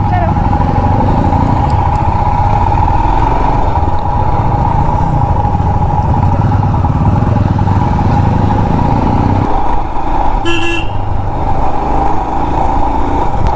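A new motorcycle rides along a service road beside the Mysuru expressway, its engine a loud, steady drone heard up close throughout, with a brief burst of wind or passing noise near the end.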